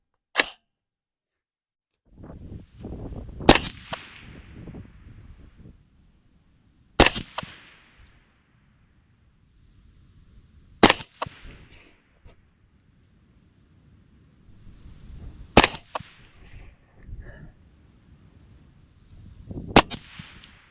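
An AR rifle with an 11.5-inch barrel firing 5.56 77-grain rounds at a 200-yard range, six sharp, loud shots spaced several seconds apart, with quiet handling noises in between.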